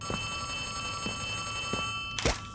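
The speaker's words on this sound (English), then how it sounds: "Let's answer the phone." Telephone bell rings in Poppy Playtime Chapter 3, three short repeated rings over a steady tonal game hum, followed by a louder, brighter burst at the end; no speech.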